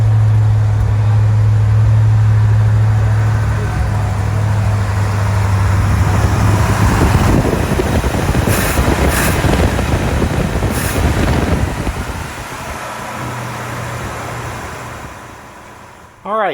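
A 1970 Chevelle L34 with a 396 V8, freshly started after sitting, idles with a loud, steady low rumble that later turns rougher and busier with brief high tones, heard close in a garage.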